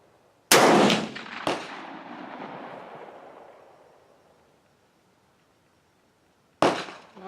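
A hybrid 1903A4 rifle fired at an outdoor range: two sharp, loud shots about a second apart, a long echo fading over several seconds, then quiet before a third shot.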